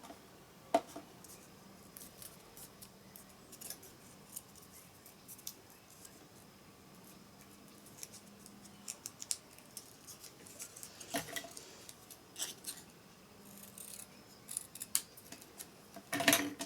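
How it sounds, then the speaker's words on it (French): Scissors snip a piece in two during a home décor craft project, a few faint, sparse clicks and cuts in a quiet room. "Je coupe en deux et je colle."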